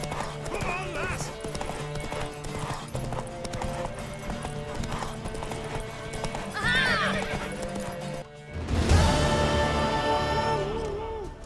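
Horse hooves clip-clopping at a gallop in The Witcher 3 video game, with whinnies and neighs, a steady rhythmic thud under game music and speaking voices, rising to a louder burst near the end.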